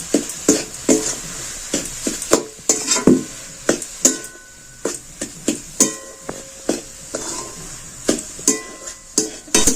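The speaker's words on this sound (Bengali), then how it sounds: "আবারও এটাকে আমি খুব ভালো করে নেড়ে চেড়ে নিচ্ছি" A spoon clacks and scrapes repeatedly against a pan while the semolina filling for steamed bhapa pitha is stirred, giving sharp, close, rhythmic knocks over a faint sizzle with no talking.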